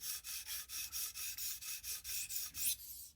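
A knife blade is ground against an abrasive stone on a Tsprof Pioneer guided sharpener, giving about a dozen steady, evenly spaced scraping strokes in a regular back-and-forth rhythm, close and fairly quiet.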